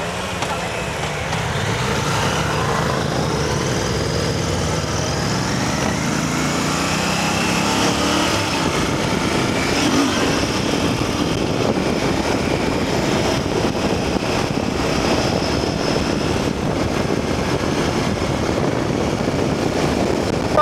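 A Royal Enfield Bear 650 or Triumph Tiger Sport 660 engine hums steadily on a test ride, its pitch rising and falling slightly with throttle, accompanied by constant wind and road noise.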